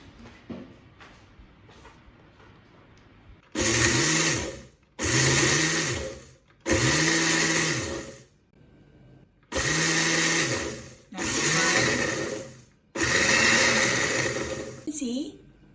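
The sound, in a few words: grinding dried chili into flakes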